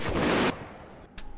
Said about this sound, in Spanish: voy a coger el explorador para disparar un poco a lo lejos